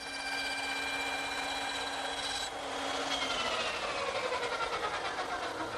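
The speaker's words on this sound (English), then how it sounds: "I think this little dovetailing saw is more accurate." A small dovetail saw cuts tenon shoulders by hand in wood, giving steady rasping strokes that turn rhythmic partway through, with no talking.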